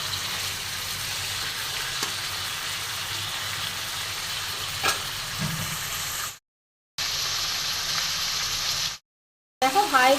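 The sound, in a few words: chicken frying with crushed black pepper and onion on high flame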